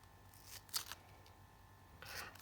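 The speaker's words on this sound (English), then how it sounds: "So I'm using my titanium scissors." Titanium scissors snip through paper board in a few short, crisp cuts at close range, with quiet pauses between them during box construction.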